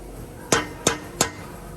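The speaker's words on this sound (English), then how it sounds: "Get a little hammer, get a socket, just smack over that a little bit." Three sharp metallic taps from a small hammer striking a socket to seat a car part, evenly spaced about a third of a second apart, close and crisp with a brief ringing tail.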